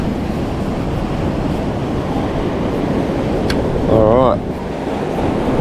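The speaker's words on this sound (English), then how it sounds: "The swell might be a bit big" Ocean swell and surf washing over a reef at high tide, a steady broad roar close to the shore with wind noise on the microphone and a man's brief spoken word near the end.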